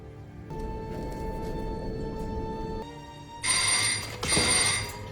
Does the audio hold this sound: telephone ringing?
yes